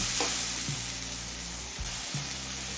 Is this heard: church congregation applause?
no